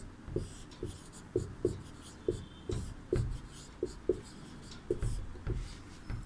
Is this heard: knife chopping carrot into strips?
no